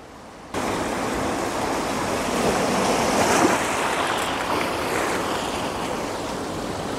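Sea waves breaking on a rocky shore, a loud continuous wash of surf that rises and falls, heard close and alone without voices.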